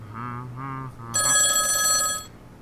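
A telephone rings with a bright, loud trilling bell burst following a short electronic tone pattern, with no talking over it.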